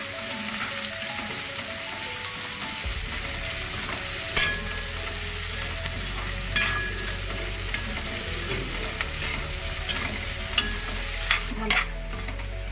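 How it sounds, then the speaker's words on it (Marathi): Onion frying in a pan for a jackfruit bhaji, giving a soft continuous sizzle with occasional stirring scrapes and clicks, close and fairly quiet with no voices. "ते कांदा लवकर शिजला जातो, लाल होतो कांदा"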